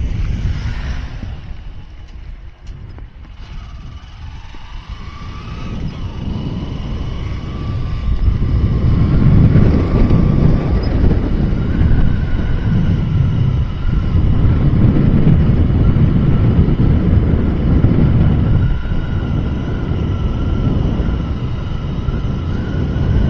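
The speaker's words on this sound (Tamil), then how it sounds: "நல்லா சில்லுன்னு காற்று அடிக்குது." Wind roars past during a solo ride on a Honda SP 125 motorcycle on the road from Gudalur to Bandipur via Mudumalai, a loud, continuous low rush that swells midway and stays steady.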